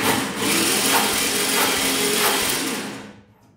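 A short burst of Cox model engine cranking with a finger pressed over the spark plug hole, a fast, breathy pulsing whir up close that cuts off after a few seconds.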